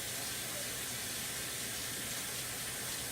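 Potatoes scrubbed with a brush-headed peeler under a steadily running kitchen tap, the water rushing in a continuous close wash with no distinct scrubbing strokes standing out.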